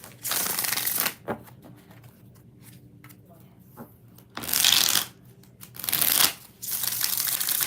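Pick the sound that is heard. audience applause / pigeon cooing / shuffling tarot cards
shuffling tarot cards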